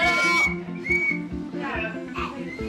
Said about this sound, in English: Thanks for buying them whistles, Leon.